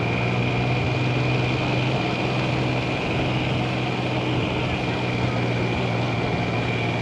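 A 1999 Triumph Trident 900 motorcycle on the road, its engine droning steadily and loudly with a constant hum and broad rushing wind noise throughout, no voices heard.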